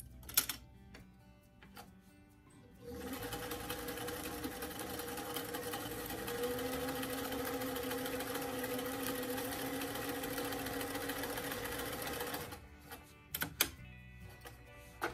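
A sewing machine stitches a sleeve cuff to the lining of a fuzzy doll coat, running in one steady whirring burst of about ten seconds, with scattered clicks and handling noises before and after.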